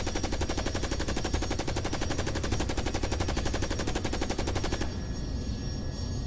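Rapid, steady machine gun fire from a combat unit in the video game Carrier Command: Gaea Mission, a continuous loud burst lasting about five seconds before cutting off to engine hum.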